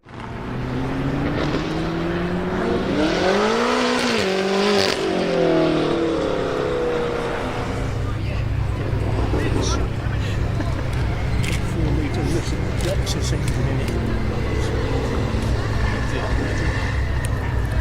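A BMW M8 sports car (pre-LCI, 2020-2022) revs and sweeps up and down in pitch as it passes, then settles into a steady, loud rumbling drive with broad road noise.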